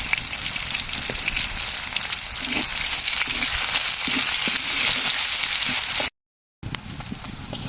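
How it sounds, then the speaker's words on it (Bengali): Chopped onion with salt fries in a pan, giving a loud, dense, continuous hiss and crackle up close, briefly cut off before resuming. "পেঁয়াজটা সোনালি কালার ভাজা হয়ে গেছে"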